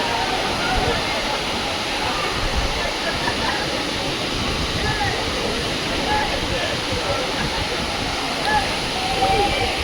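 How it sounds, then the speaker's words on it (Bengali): Water rushes at Hogenakkal falls in a dense, continuous roar that stays loud and steady throughout, with people's voices faintly underneath. "আর ওই দেখো জল ওখান দিয়ে আসছে"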